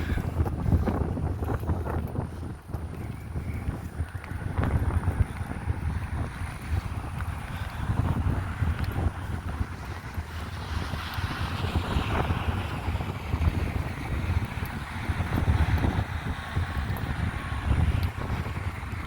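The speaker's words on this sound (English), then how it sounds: "That wind makes it cool." Strong wind blowing outdoors near a bridge, buffeting the microphone in a steady loud rush with gusty swells and no speech.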